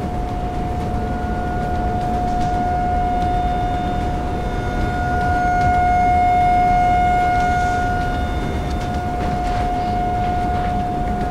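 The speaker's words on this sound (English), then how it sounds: "called to National Weather Tower so they could put on the sirens" Tornado warning sirens wail in a long, steady tone during a 2024 tornado outbreak, loud and continuous with a broad roar of wind or rumble beneath and no voices.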